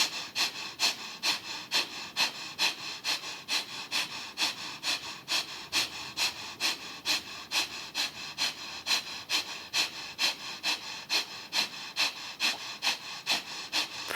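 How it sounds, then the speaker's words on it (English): Breath of fire, a rapid yogic breathing exercise, continues while moving into cat pose: quick, forceful nasal exhales at a steady pulse of about two per second, close and alone without talk. "roll your way into cat pose, keeping the breath of fire going"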